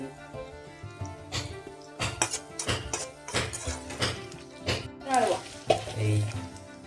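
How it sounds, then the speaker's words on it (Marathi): Onions and green chilies sauté in a pan, with a sizzle under irregular taps and scrapes from stirring. "टाकलेल्या कांद्याला परतून घेऊया त्यामध्ये आता आपण मिरची टाकून घेऊ"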